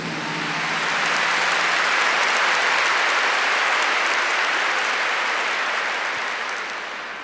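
A church congregation claps for a long stretch, a dense, even roar of many hands that swells in and tapers slightly at the end.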